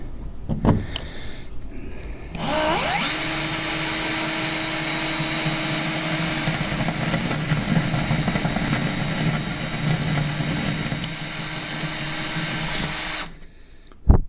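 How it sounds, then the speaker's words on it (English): A power drill drilling into a wall whines continuously at high speed for about ten seconds, loud and close, after a brief start-up, then cuts off. "You don't want to drill too deep in case there's duct work or something inside the wall."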